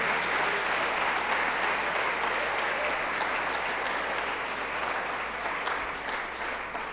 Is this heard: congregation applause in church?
yes